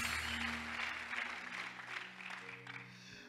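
A church congregation at a revival service applauds together, steady and fairly loud clapping that swells and thins over a few seconds with a faint sustained tone running beneath it.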